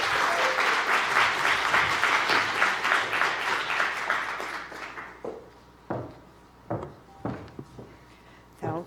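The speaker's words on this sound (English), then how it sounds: "So let's give her a big round of applause again" Audience applause welcoming a provincial minister to the stage at a government announcement, full and steady at first, then thinning into a few scattered claps that trail off to near quiet.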